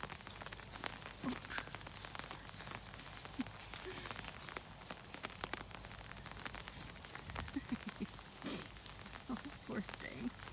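Rain falls steadily on a park in Scotland, a broad continuous patter with scattered closer drops and splashes, while a person speaks briefly nearby and footsteps shuffle.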